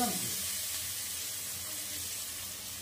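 Papaya pieces frying in a pan for papaya ghonta, a steady soft sizzle and hiss running throughout at moderate level, with a brief louder stir or clatter right at the start.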